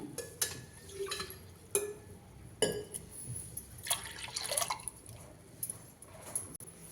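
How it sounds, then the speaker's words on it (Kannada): Water tipped into a metal pressure cooker in a few splashy pours with drips and light clinks between them, close and quiet. "ಇನ್ನೊಂದು ಕಪ್ ನೀರು ಹಾಕ್ತೀನಿ"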